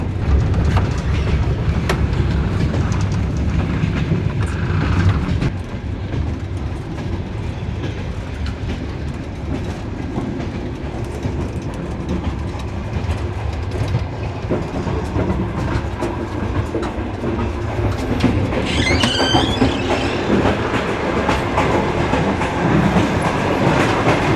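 Nostalgic passenger train running from Chisinau to Bucharest, heard from on board as a steady loud rumble with rhythmic clickety-clack of wheels over rail joints and a brief screech near the end, no talking.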